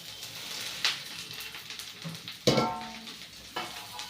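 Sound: onion frying in oil in a wok

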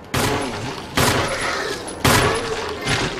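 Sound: gunfire from a video game

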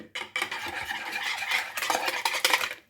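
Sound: mixing cake batter with a whisk, spoon or fork

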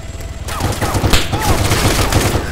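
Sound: rifle gunfire in the video game ARMA III

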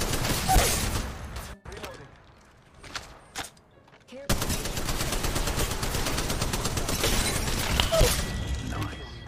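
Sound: gunfire in the video game Apex Legends Mobile

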